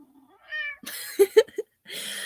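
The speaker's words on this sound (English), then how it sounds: "I don't know if you can hear the cat, but he is a loud baby." A loud pet cat meows several times in quick succession, a drawn-out call followed by short sharp bursts, close by with brief pauses between.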